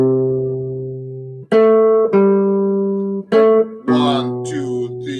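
Guitar plays the melody of a standard straight as written, in about five sustained notes with clear harmonic tone, loud and close, with no talking over it.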